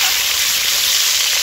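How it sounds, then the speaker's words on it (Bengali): Eggs fry in a pan over a fire at an outdoor New Year picnic, a loud, steady hiss and sizzle close by, with no talk. "এই যে ডিম, ডিম ভাজা হচ্ছে"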